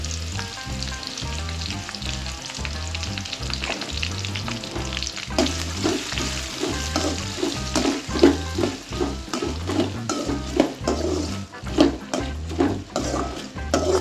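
Raw mango pieces sauté in oil with green chillies, dried red chillies, curry leaves and nuts for mango pachadi, a steady loud sizzle with rhythmic stirring and scraping throughout, growing more percussive in the second half.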